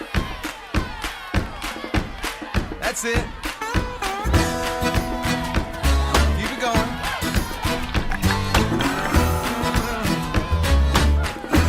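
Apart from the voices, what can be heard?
audience clapping and stomping feet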